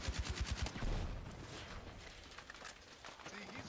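Video game gunfire rings out in a quick run of sharp, rhythmic shots at first, then gives way to quieter, scattered game noise.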